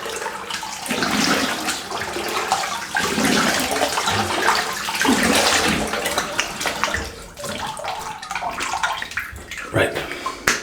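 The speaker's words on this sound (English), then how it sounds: "Let me have a quick rinse." Water runs steadily from a tap while a safety razor (Homelike Shaving Taiga Adjustable) is rinsed under it, a continuous broadband rushing with small splashy variations and occasional clinks near the end.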